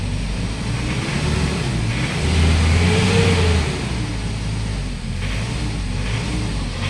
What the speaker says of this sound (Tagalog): napaka ingay o grabing lakas ng fuel knock pagka nire-revolution.